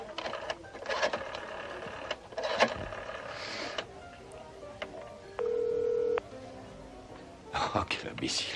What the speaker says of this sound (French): lieu de faire le numéro de bureau de Jamie, je viens de composer mon numéro